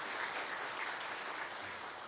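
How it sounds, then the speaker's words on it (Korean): A church congregation at a Sunday worship service claps to welcome a newly registered member, giving a steady, even patter of applause that sounds soft and somewhat distant. "박수로 환영합니다."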